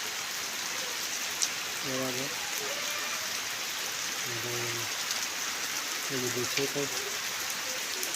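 Steady monsoon rain hisses over a village, a constant wash of falling water, while someone talks intermittently over it.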